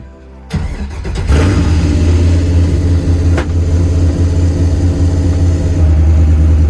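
An LS-swapped drift car cranks briefly, catches and fires, then settles into a loud, rough, steady running idle close by, with no talk over it.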